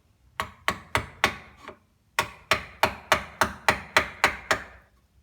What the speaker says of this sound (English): A piece of crap Harbor Freight chisel, the cheapest one you can buy that you don't mind abusing, and a hammer will take care of most of it.